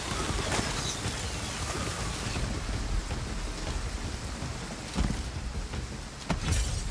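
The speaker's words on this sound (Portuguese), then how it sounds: "a chuva tá atrapalhando a gente" Rain falls in the strategy video game Total War: Pharaoh, a steady hiss of downpour with occasional louder bursts like distant rumbles, no talking.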